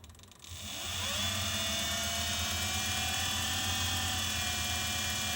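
A new watchmaker's lathe spins up to 2400 RPM while turning a stem for a Patek Philippe 16-250 watch, giving a steady, sustained mechanical whine with a rising pitch at the start, then holding constant and fairly loud with no talk.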